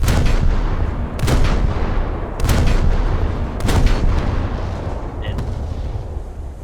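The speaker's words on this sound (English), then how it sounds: "let me show you the main gun. It's a 3-inch gun." A 3-inch main gun firing in the War Thunder game: three or four heavy, sharp reports at roughly one-second intervals over a loud continuous rumble, close and powerful.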